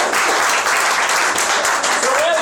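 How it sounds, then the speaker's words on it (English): Audience applause at a magic show: a dense, continuous patter of clapping from a crowd, loud and close for a couple of seconds, with a voice briefly rising over it near the end. "Give him a nice round of applause."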